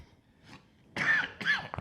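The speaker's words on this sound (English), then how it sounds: "I had a cough" Two close, sharp coughs with a throat-clearing edge, the second shorter than the first, after a few quiet moments of faint room noise.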